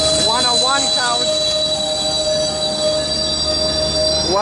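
Metrolink passenger train coaches rolling past a station at Commerce, wheels squealing in rising and falling whines early on over a steady rail rumble and loud hum, close and sustained.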